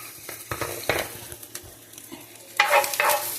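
Onion for a grilled turkey sandwich cooks in a pan, heard as irregular spoon scrapes and bursts of sizzling, louder toward the end.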